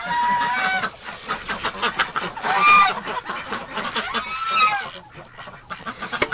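Wintering geese and ducks honk and call repeatedly indoors, loud and close, a busy overlapping chorus of squawks with no voices.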